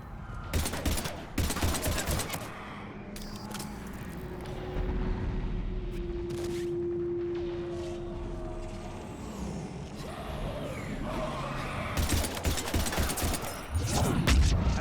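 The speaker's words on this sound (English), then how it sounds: "I'm taking heavy fire." Heavy gunfire in a Mass Effect 3 firefight against husks, with bursts of shots crackling loudly at the start and again near the end around a steadier rumble of combat noise between.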